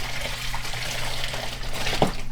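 Water gushing steadily from a tube into a 300-gallon pond inside a greenhouse, a continuous close splashing wash with a brief louder slosh near the end.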